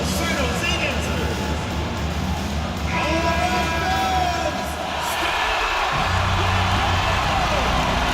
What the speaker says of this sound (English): Let's give some applause to the San Jose Dancers